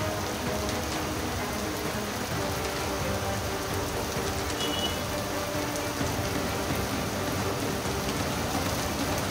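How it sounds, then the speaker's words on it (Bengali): Steady rain falls in Jadavpur, Kolkata, a dense even hiss of drops on surfaces that stays constant and fairly soft, with no voices. "ভালোই বৃষ্টি লক্ষ্য করা গেছে যাদবপুরে"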